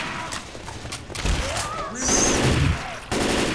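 Gunfire aimed at zombies inside a mall in the video game Left 4 Dead 2. Bursts of shots crackle amid loud game noise, with people talking over the action.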